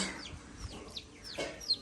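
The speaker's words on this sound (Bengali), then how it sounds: "আর এদিকে মুরগি" Quiet chickens cluck in short, scattered bursts at a little distance in a village near the Teesta River, with a few sharper calls near the end.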